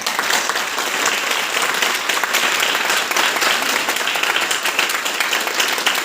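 A large audience at a health awareness program breaks into loud, dense, sustained applause, a continuous wash of clapping that holds evenly throughout with no talk over it.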